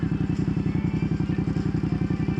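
A Ducati Panigale V2S sportbike rumbles along at a steady pace with a fast, even engine pulse close by, heard from the rider's position.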